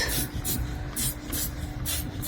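Several short hissing bursts of wheel cleaner sprayed onto a car wheel in a steady rhythm, close up, with a faint hum underneath and no talking.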